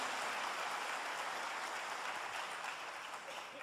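A church congregation at a Christian service in Chile claps together in a steady, even wash of applause that stays at a constant moderate level throughout.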